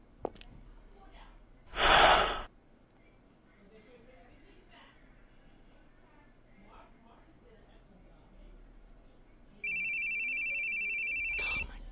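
A phone in the horror video game The Boogie Man starts ringing as a steady electronic tone near the end, after a loud burst of breathy noise and quiet ambient sounds.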